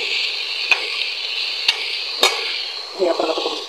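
Cassava leaves sauté in a pan with garlic and onion, giving a steady close sizzle with a few sharp clinks of a utensil against the pan and a brief burst of stirring near the end.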